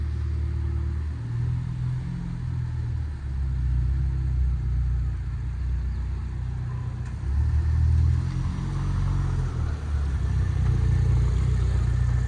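A vehicle out on a test drive gives a steady, close low engine rumble that swells and eases a few times, with no voices over it.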